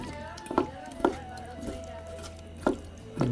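Raw chicken is mixed with turmeric, chili powder, ginger, garlic and onion, producing a few separate soft thumps and squelches against a bowl at uneven intervals over a low steady hum.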